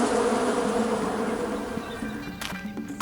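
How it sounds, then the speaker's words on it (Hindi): A swarm of bees hums in a steady, dense drone that fills the whole stretch, loud and continuous, with a few brief clicks near the end and no voices. "अंदर से मधुमक्खियाँ आ रही हैं।"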